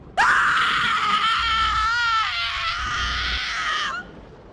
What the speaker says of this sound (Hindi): तभी अचानक से किसी के चिल्लाने की आवाज आती है।